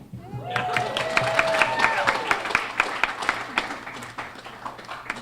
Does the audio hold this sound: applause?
yes